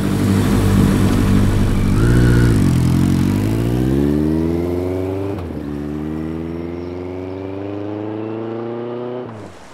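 A motorcycle engine revs hard and loud up close, climbing in pitch through several rising sweeps before dropping and cutting off abruptly at the end, with no voices.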